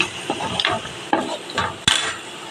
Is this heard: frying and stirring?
yes